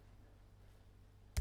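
A single sharp mouse click in a Git desktop client, near and isolated, landing at the very end after a stretch of quiet room hum.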